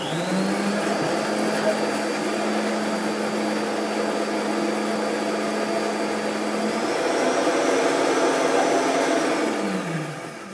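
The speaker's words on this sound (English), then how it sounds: "This is not my blender. It's on the computer." Kitchen blender played back through computer speakers in a cooking class, a steady loud whirring motor running for about ten seconds with a slight pitch shift near the end before winding down.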